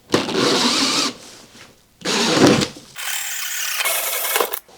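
A 1.5-inch hole saw cuts holes while installing a dryer duct to wall connector, grinding loudly in three close bursts with short pauses between them.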